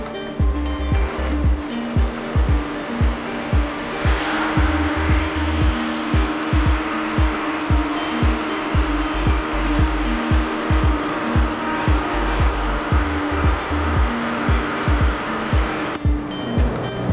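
Heat applied to puff print ink on a garment to dry it, a steady whooshing blower noise with rapid, regular low thumps running throughout at fairly loud, even level.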